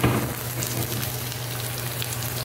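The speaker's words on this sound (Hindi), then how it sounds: "अब मैं इसमें इस टाइम में लहसुन डाल दूंगी, लहसुन के जवे मैंने डाल दिए इसमें" Garlic cloves sizzle alongside browning onions in a pan while cooking kadhi pakoda, a steady close frying hiss with a faint low hum underneath and no talk.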